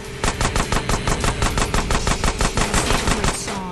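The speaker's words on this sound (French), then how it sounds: "Je crois que j'ai des balles explosives, c'est pas possible." Rapid automatic gunfire with explosive rounds in the remastered video game GTA San Andreas: a loud, regular string of sharp shots, about four or five per second, for several seconds.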